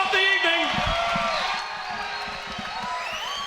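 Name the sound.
crowd applause for cage fighters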